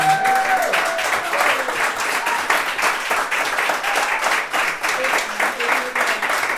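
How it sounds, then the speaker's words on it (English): Steady applause from a crowd at a live music performance in a museum music room, dense clapping throughout with a faint voice briefly underneath at the start. "A round of applause."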